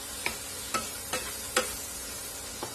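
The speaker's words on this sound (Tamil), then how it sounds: "தக்காளி இதோட சேர்த்து வதக்கி விட்டுடலாம்." Tomato sautéing with masala in a pan for a potato capsicum gravy, a steady low sizzle broken by about five sharp spatula scrapes and clicks spaced unevenly, close and alone.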